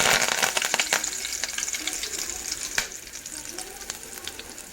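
Cumin seeds and fresh curry leaves sizzle in hot oil for a potato usal, giving a steady, crackling fry with sharp pops and stirring clicks that eases off slightly toward the end.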